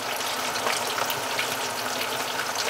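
Hot oil sizzles and bubbles vigorously around deep-frying pork butt without pause, a dense crackling hiss heard up close.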